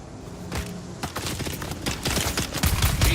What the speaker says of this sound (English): Oh my god, stop shooting me!